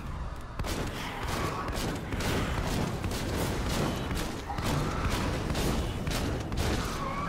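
Shotgun blasts go off repeatedly in the Seraph video game, layered over a constant roar of combat noise. The shots land in an irregular rhythm and sound loud and close throughout.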